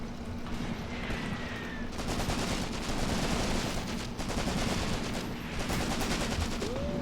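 Dense, continuous small-arms and machine-gun fire from an infantry battle in Graviteam Tactics: Mius Front, with rapid overlapping shots rattling steadily throughout and no talk.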